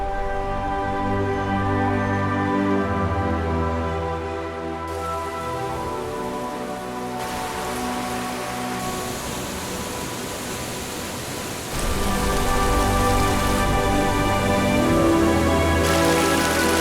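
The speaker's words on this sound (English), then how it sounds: "the so-called horizontal rain, a fine and continuous drizzle that ensures every corner of the jungle" Fine, continuous drizzle falling across a mountain jungle, a dense even hiss of tiny drops that swells slightly louder near the end, steady throughout with no voices.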